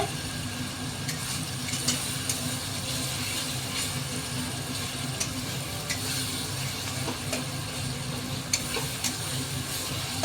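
Spice paste fries in oil for a yogurt chicken curry, giving a steady close sizzle with scraping stirs and occasional clicks of a spoon against the pan, no voices.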